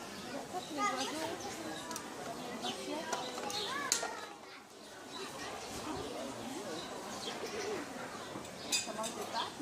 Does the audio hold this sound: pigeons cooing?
yes